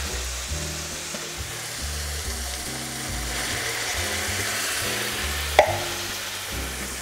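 Canned tomato sauce and chopped tomatoes sizzle and bubble in a hot pan for penne alla vodka, a steady moderate hiss with a soft utensil knock near the end.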